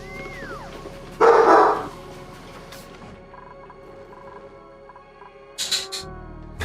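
A standard poodle barking outside at night: one loud, burst-like bark, then quieter ambient tones and a second, shorter pair of barks near the end.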